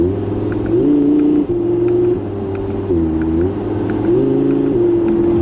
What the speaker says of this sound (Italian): sto giocando con il cambio DSG che va velocissimo nei cambi di marcia e permette a questo V10 di, come dire, esaltare una delle sue doti